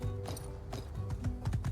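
Horse hooves clip-clop in the video game My Time at Sandrock, a quick irregular run of soft thuds and clicks at moderate distance over a low background hum.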